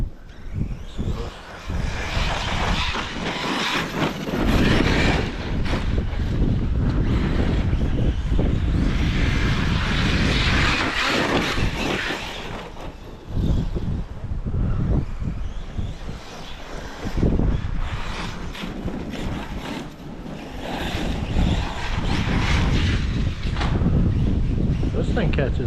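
An Arrma Mojave 6s RC car runs at full throttle outdoors, its motor giving a loud, continuous whine that rises and falls in long surges, with a voice talking intermittently over it.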